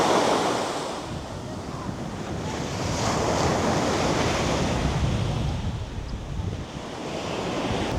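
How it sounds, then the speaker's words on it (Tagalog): Steady wind at Back Beach on Boracay roars across the microphone alongside surf washing ashore, a loud, broad continuous rush that swells and eases slightly with no talk. "Mahangin kasi masasabi mo na part to ng Back Beach area."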